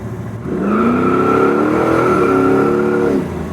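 A loud modified engine in a 1975 Mercedes-Benz 240D revs and holds a high, rising roar for a few seconds before dropping back, with a rough, throaty tone and no talking.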